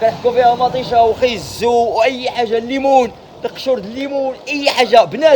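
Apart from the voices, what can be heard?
No distinct noise like a dog, phone or traffic.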